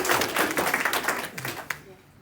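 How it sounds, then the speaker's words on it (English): Short burst of audience clapping at a Tableau user group meetup in London, dense applause fading out after about two seconds. "in 3 seconds you can applaud again for Laura"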